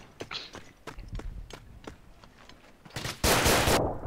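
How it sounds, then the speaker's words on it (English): Submachine gun fire in the WWI trench-warfare game Verdun, attrition mode: a series of sharp, evenly spaced cracks, then a louder sustained burst of rapid shots near the end. "Bloody submachine gun."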